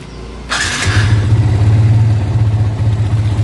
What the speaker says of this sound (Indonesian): kita coba nyalakan mesin